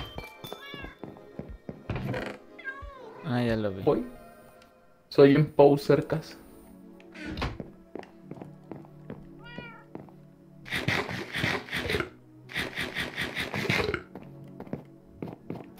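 Several Minecraft cat meows pop up between bursts of people chatting, with occasional thunks and short electronic effects.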